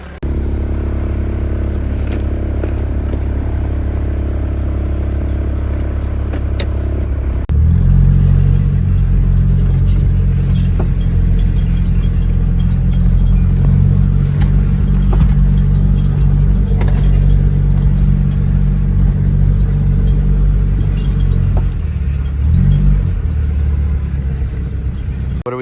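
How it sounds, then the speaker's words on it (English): A four-wheel drive vehicle travels through swampland on an island, its engine rumbling loudly and steadily throughout, with a shift to a deeper, heavier drone partway through. "So we're gonna need 4-wheel drive, because the whole way out is swampland."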